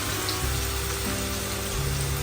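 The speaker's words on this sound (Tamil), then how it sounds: "இப்போ இந்த மாதிரி பொரிக்கணும்." Bitter gourd pieces fry in hot oil for Sri Lankan sambal, giving a steady, dense sizzle with fine bubbling. The sound is continuous and close, with no talk.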